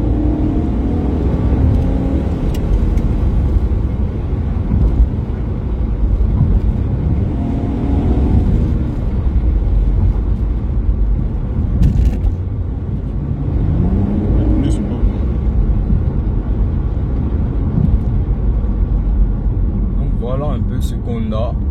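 A Chevrolet Camaro RS engine accelerates, heard from inside the cabin, with a loud, continuous rumble that swells and eases through short bursts of throttle while someone talks over it.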